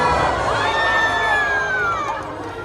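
A crowd at the It's a Small World evening show at Disneyland cheers loudly, with children's high shouts and a long rising whoop over the mass of voices.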